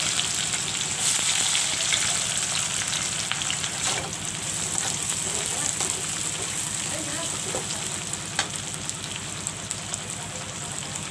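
Onions fry in mustard oil with cumin seeds, a dense steady sizzling crackle like rain on a surface, close and even throughout, with occasional stirring.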